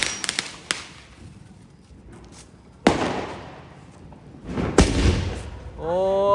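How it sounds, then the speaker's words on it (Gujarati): Sky shot fireworks at a Diwali celebration burst outdoors in a few sharp, loud cracks with booming echoes, followed by a brief distant voice at the end. "દોસ્તો હવે આપણે સ્કાય શોટ ફોડી રહ્યા છીએ."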